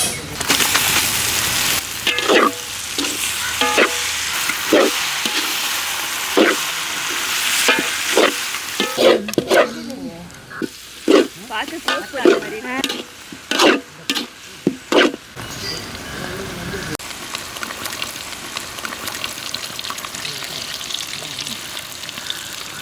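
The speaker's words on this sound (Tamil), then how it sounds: "இப்போ அதில் போட்டு நல்லா வதக்க போகிறோம்" Onions sautéed with roasted drumstick flesh in a pan for a tandoori-style dish: steady frying sizzle broken by repeated scraping stirs, the clatter bunching into quick bursts midway before the hiss settles back to a continuous simmer.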